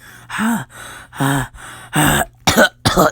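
A few short, close coughs and throat-clearing grunts in quick succession, with gasping breaths between them.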